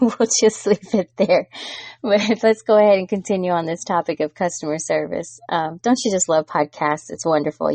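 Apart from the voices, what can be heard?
No distinct noise like a dog, phone or traffic.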